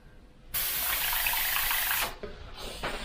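A sudden rush of hissing water pours into fw ink to thin it and lasts about a second and a half before cutting off, followed by quieter trickling.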